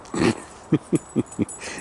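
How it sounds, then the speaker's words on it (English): A dog named Annabella making a short huffing vocal followed by four quick, evenly spaced soft yips or whimpers, close by in a quiet space. "This dog."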